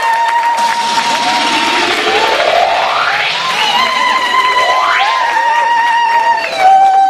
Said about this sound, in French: Merci, on applaudit.